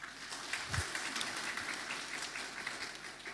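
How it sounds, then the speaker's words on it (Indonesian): A church congregation applauds, a moderate wash of many hands clapping that continues throughout, heard from within the hall and somewhat soft. "Saudara tepuk tangan dulu, tepuk tangan dulu."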